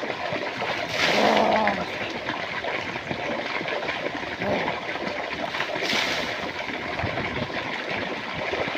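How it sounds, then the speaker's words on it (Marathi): Someone bathing in a water tank, with sloshing and splashing water over a constant watery rush and one louder splash burst near the start. "हौदात आंघोळ चालू आहे"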